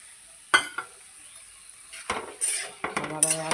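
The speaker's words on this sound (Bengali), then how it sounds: "আবার একবার নেড়ে নেবো।" Pumpkin greens cooked with mustard are stirred in a pan, a few close scraping and clinking strokes of a utensil against metal in irregular bursts, over a faint background sizzle, with no talking.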